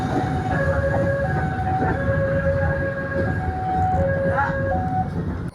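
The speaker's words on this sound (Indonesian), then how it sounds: "kereta api komuter lain yang kita naiki ini sudah tiba di stasiun Cikudapate" Heavy rumbling of a commuter train pulling into Cikudapateuh station, Bandung, with a sequence of clear melodic chime-like tones ringing out over the steady roar.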